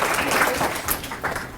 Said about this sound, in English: Let's have a nice round of applause for our student leaders